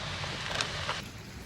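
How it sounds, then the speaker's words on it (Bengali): Heavy rain falls as a steady, dense hiss that stays constant for the whole moment, with a couple of brief louder swells partway through. "দেখো কি জোরে বৃষ্টি হচ্ছে আমার"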